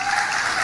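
Church audience applauding during a sermon, a dense burst of clapping from many hands, close and fairly loud, with no voices over it.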